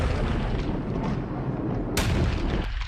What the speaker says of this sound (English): Oh, it's a little extra explosion there.